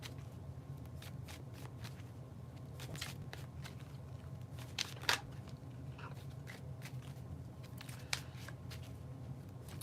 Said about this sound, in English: Till I do the bridge shuffle.